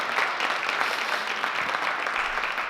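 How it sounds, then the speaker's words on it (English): Audience applause at a high school spring concert: a steady wash of many hands clapping in a hall, fairly loud and continuous with no talking over it. "It's so great to hear applause again."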